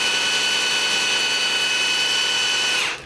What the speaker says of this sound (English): And the drill's ready to smoke.